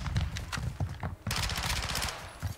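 Rapid gunfire from a video game shooter, sharp repeated shots in bursts with a sustained volley in the second half, loud and close with faint voice chatter underneath.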